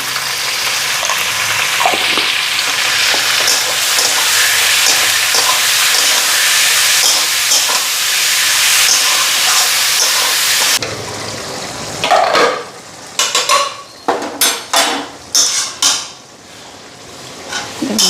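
Ground turmeric and salt spices sizzle steadily in a hot pan for about eleven seconds, then give way to intermittent scraping and stirring clatter of a utensil against the pan, close and loud, with no talking.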